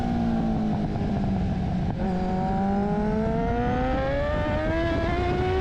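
A Moriwaki-modified Kawasaki Z900RS motorcycle engine heard on board while riding, a loud, steady drone whose pitch climbs smoothly as the bike accelerates, with no talking.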